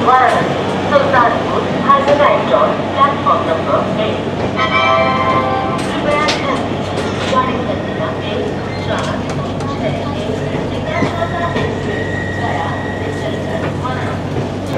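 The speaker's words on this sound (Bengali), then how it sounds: "মুঘলসরাই থেকে আমাদের ট্রেন ছেড়ে দিল" A passenger train pulls out of the busy Mughalsarai station at night, a steady loud rumble and rattle of carriages with clanks and squeals, while people talk throughout.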